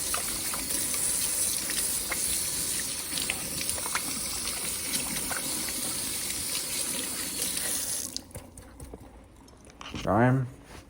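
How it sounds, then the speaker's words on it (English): Hands are washed with soap under a running kitchen tap, giving a steady broad gush of water for about eight seconds before it stops. A short voice-like sound follows at the end. "just for the sake of the video, I'll wash my hands thoroughly."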